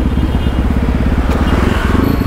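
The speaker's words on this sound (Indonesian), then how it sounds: "Ini motor baru beres, baru lagi dicoba dulu sih, enak nggak?" A Yamaha WR155R motorcycle with a new Qala Performance exhaust idles and revs close by, a steady loud throbbing with a brief mechanical rasp midway.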